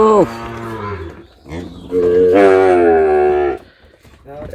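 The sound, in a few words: Sahiwal bull calf cattle mooing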